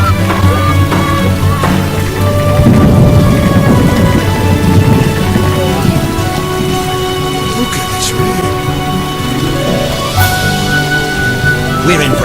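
Heavy, steady rain pours down with low rolling thunder rumbling underneath, dense and continuous throughout, in The Witcher video game.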